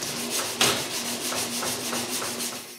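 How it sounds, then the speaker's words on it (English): Small wooden facets on a glued box being sanded by hand: continuous close rubbing with rhythmic back-and-forth strokes and one sharper scuff early on, no voices present. "Then I sand all the small facets the plane left."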